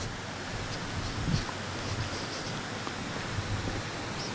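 Water flowing along the Algualva stream, a steady broadband rushing and gurgling wash that stays even and close throughout, with no voices.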